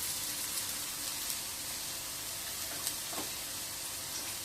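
Asafoetida and spices frying in a pan: a steady, bright sizzle with fine crackling, constant and close, with a few small pops and no talking.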